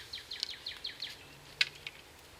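Small birds chirp outdoors in a quiet late-afternoon setting, giving a rapid series of short, high, faint chirps followed by a couple of sharper isolated notes, with no one talking.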